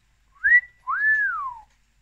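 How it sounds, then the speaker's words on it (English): A person whistles two clear notes in celebration, a short rising tone followed by a longer rising-then-falling one, loud and close against silence. "This calls for a celebration whistle."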